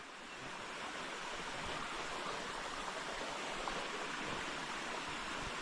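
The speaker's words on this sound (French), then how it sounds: "Le petit bruit de l'eau et tout." Small hillside stream on the heights above Sivergues, flowing steadily as a continuous close rush of water with no other sounds.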